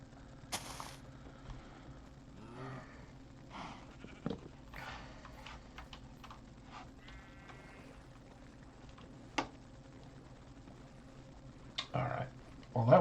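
Sheep bleating in the Minecraft video game, a few short quiet bleats scattered over a faint game ambience with small clicks and pops, no talking.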